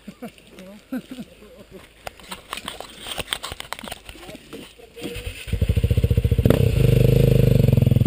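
Enduro motorcycle on a hill climb, at first quiet under people talking, then the engine revs hard and loud from about halfway, a steady close roar that continues to the end.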